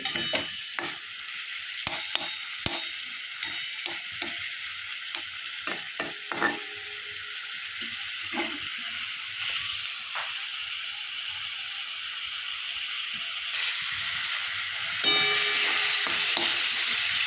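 Broccoli masala frying in a pan, with a steady sizzle under a run of sharp spatula clacks and scrapes early on that thin out, then a louder hiss swelling near the end.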